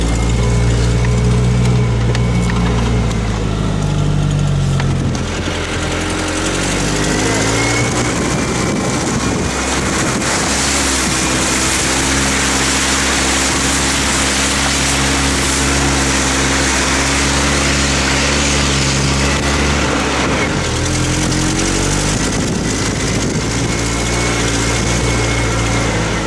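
A small vehicle's engine drones loudly and steadily up close while driving toward a cabin on a muddy track, its pitch shifting slightly as it works along, with no voices over it.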